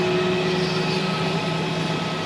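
A passenger airplane at Zurich Airport gives a steady, loud engine roar with a sustained tonal hum, constant throughout and heard alone without talk.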